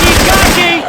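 A short, loud burst of rapid machine gun fire from Left 4 Dead 2 with Syphon Filter weapon sounds, the fast shots rattling close up before trailing off.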